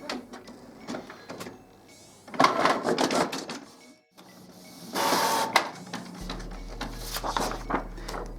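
Canon Pixma iP8750 printer printing a nozzle check page, with mechanical whirring, clicks and clunks in uneven bursts, a louder feed run midway, and a low steady hum near the end.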